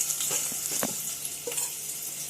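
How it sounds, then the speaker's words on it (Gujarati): Onions sizzle as they fry in a pan, a steady close hiss broken by a few clinks and stirring sounds, with no voices. "પેલા ડુંગળી શેકવા માટે નાખી."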